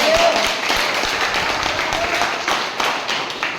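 An audience at a free education training event in Chikkanayakanahalli claps, the applause loudest at first and then thinning into scattered claps.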